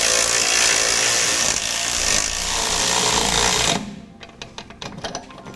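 A power tool tightens nylon locking nuts on Air Lift LoadLifter air helper spring hardware on a 2008 Toyota truck. It gives a loud, continuous whir for nearly four seconds, then cuts off, and a few scattered clicks and knocks follow.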